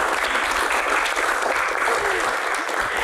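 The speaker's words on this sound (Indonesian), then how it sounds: "Tepuk tangan." A studio audience at a Q&A talk show bursts into steady, dense applause that holds at an even level throughout, heard alone without speech.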